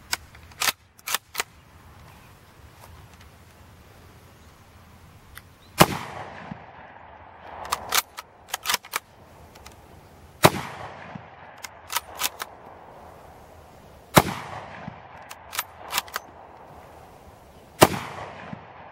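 A Mosin-Nagant M44 rifle fires at an outdoor range, several loud sharp gunshots spaced a few seconds apart, each with a ringing decay, mixed with fainter distant shots from other shooters.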